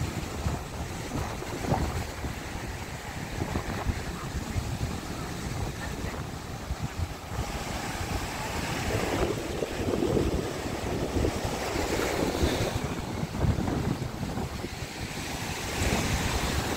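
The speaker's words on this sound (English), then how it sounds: "Really big waves, good for surfing" Big ocean surf breaking steadily at Chaweng Beach on Koh Samui, Thailand, a continuous loud wash of waves with wind buffeting the microphone throughout.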